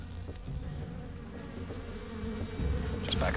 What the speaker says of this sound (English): There's a few more wasps outside the hive, and they're just flying a little bit more directly towards me.